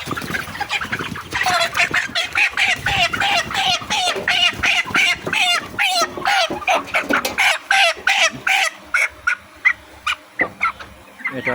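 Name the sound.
chickens clucking as one is caught on a farm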